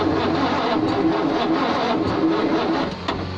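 An abandoned Green Goddess fire engine running and revving, a close, loud, rough drone that holds steady before easing slightly near the end.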